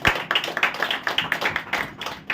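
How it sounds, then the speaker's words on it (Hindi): A church congregation claps together in a steady, fast rhythm during a Hindi praise worship service, the crisp hand claps loud and close, repeating evenly with no voices over them. "तारीफ करो प्रभु की ताली के साथ।"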